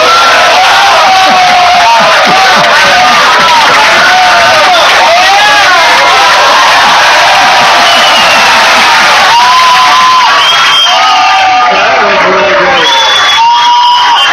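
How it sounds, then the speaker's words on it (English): A large crowd cheers wildly at a trick-shot billiards exhibition in New York, with loud sustained roaring, shouts and whoops filling the whole stretch and swelling again near the end. "You can hear the crowd going wild."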